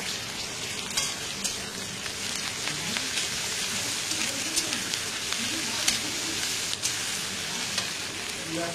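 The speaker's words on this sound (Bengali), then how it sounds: "রসুন বাটা দিয়ে একটু ভালো করে নেড়ে নেব।" Garlic paste frying in a pan while being stirred, a crackling, rain-like sizzle with scattered sharp pops and spatula scrapes, steady and close.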